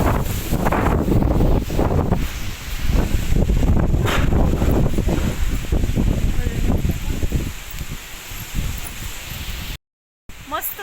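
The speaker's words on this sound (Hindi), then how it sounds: "ठंडी ठंडी हवा चल रही है ना, इतनी भयंकर।" Strong storm wind blows through mango trees in loud, uneven gusts, with rustling leaves and microphone buffeting. The sound cuts out briefly near the end.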